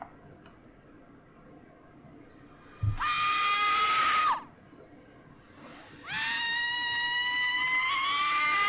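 Two long, loud screams from the horror game Slendytubbies, each held for over a second with a sharp onset, separated by a quieter stretch of low background hum.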